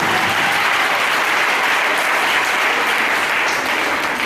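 A church congregation applauds loudly and steadily at a French-language worship service, a dense, continuous wash of clapping that holds at full strength throughout.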